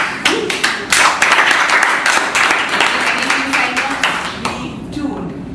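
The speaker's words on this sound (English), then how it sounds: "we should clap for that" A group of people clapping at a gathering, dense close hand claps rising into a sustained burst and tapering off, with voices talking and laughing underneath.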